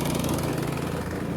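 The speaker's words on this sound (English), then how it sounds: "And there he is, snow blowing." Small snow blower engine running steadily through a heavy snowstorm in a backyard, a close, continuous buzzing drone with a constant even pitch, no voices over it.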